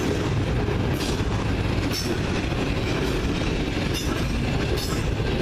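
A CN freight train led by a C40-8 standard cab locomotive rolls past near the track at Ladysmith, a loud continuous rumble of wheels and cars with periodic clacks over rail joints.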